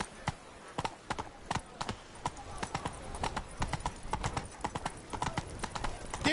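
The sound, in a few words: horse Roach hooves clip-clopping in video game Witcher 3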